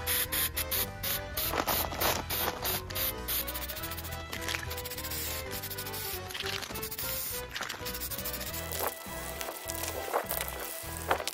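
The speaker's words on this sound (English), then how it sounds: "we're going to go over it with just some black spray paint" Black spray paint sprays onto a Halloween mask in a continuous hissing spray with sputtering bursts, steady and close, with no talking.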